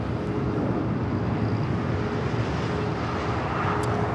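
At Los Angeles LAX airport, an airliner rumbles steadily at a distance, a broad continuous roar with no break and no voices.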